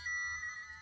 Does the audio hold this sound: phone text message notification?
yes